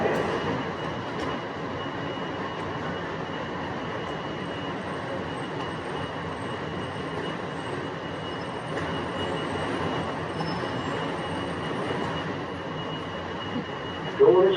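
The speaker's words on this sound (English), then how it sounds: "Train arriving." SFO AirTram airport people mover arriving at a station platform and running, a steady rumbling roll with faint wheel squeal throughout, close and continuous, with a brief louder clunk at the end.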